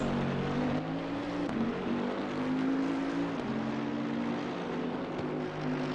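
A Bentley GT3 race car engine drones continuously in the Assetto Corsa Competizione racing game at Mount Panorama, holding a steady mid-pitched tone with slight shifts in pitch.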